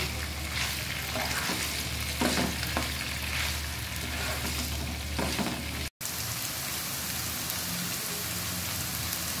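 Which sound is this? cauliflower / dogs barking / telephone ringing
cauliflower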